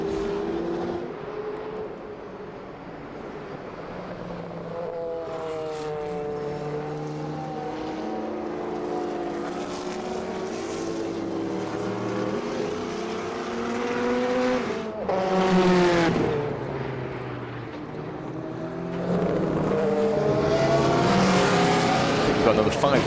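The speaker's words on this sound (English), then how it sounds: "you'll be able to hear it for yourselves through the live feed and out on circuit" Group C race cars with Sauber Mercedes C9 V8 engines howl around a circuit during a historic racing demonstration. Several cars rise and fall in pitch as they pass, with one loud, close pass near the middle.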